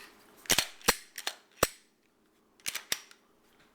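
The slide of a Glock 22 Gen 3 handgun in .40 S&W racked back and forth to check the chamber, several crisp metallic clacks in two quick clusters separated by a pause, close and clear.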